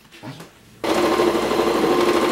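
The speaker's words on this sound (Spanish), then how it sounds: "que enseguida estamos en la máquina de coser" A sewing machine starts up after a brief spoken word and runs continuously, a close, steady buzzing whir.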